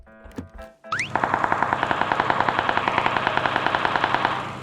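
Sustained automatic fire from an M16 rifle in the battle royale game PUBG, a fast, steady stream of sharp evenly spaced shots running loud and close for several seconds after a brief burst of other game sounds.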